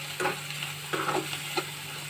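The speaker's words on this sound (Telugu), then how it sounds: "ఇలాగే కదిలిస్తూ ఉండాలి." Fish eggs frying in a pan as they are stirred for a snack, with a steady close sizzle and three brief scraping stirs spaced across the moment.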